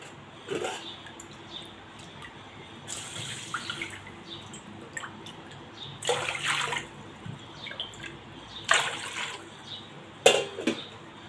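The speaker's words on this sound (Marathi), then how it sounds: "आणि यामध्ये आपण पाणी घालूया" Water splashes into a large pot of rice as rice kheer is started, with several short gushing bursts and gaps between them, close and moderately loud with no talk.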